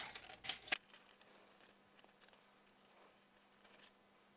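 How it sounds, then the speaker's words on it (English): Scissors cutting a small stem shape from brown craft paper, a few faint close snips and papery rustles at the start, then soft handling noises over a low steady hum. "Right, so I'll cut out this little stem."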